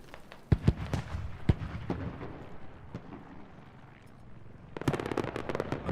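Grenade blasts in the military shooter Squad: several sharp, loud detonations early on, then scattered distant thuds, ending in a crackling cluster of bursts.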